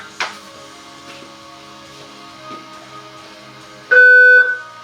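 A sharp electronic shot timer buzzer at a shooting range sounds once, a loud steady tone lasting about half a second, after a few faint clicks in a quiet room.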